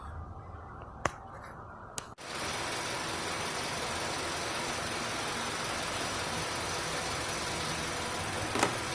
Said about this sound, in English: Engine idling.